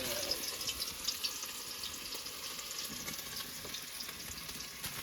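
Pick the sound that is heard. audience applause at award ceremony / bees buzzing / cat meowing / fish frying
fish frying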